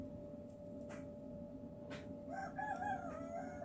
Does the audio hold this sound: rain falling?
no